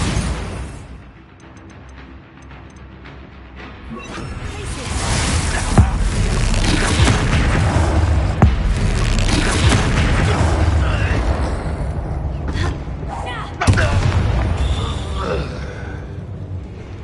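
Bombarda blasting spell explosions in the Hogwarts Legacy video game, heavy booming bursts over a dense, sustained loud mix of game effects, with a sharp blast near the middle and another toward the end.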